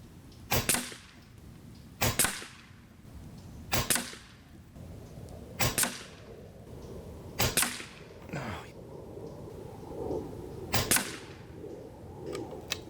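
Air Venturi Avenger air rifle, a limited-edition green-laminate model, firing pellets outdoors at a target 39 yards away, with six sharp, loud cracks spaced about two seconds apart over quiet outdoor background.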